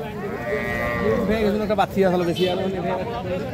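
A dairy cow at a cattle market selling Sahiwal, Sindhi and local Deshal breeds gives a loud, close, drawn-out moo over a background of crowd chatter.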